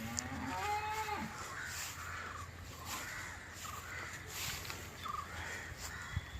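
A cow moos a single drawn-out low call near the start, beside a field wall in rural Alappuzha, Kerala, with crows cawing around it and a steady outdoor hum behind.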